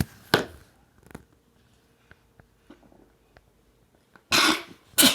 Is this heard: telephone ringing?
no